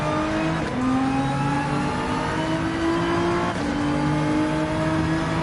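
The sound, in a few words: Porsche 911 race car engine in Gran Turismo 7 video game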